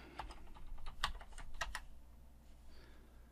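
A password is typed on a computer keyboard: a quick, quiet run of distinct key clicks at close range, bunched in a short burst and then trailing off.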